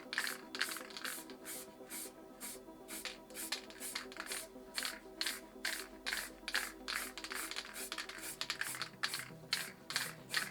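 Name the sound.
misting purple spray paint from a can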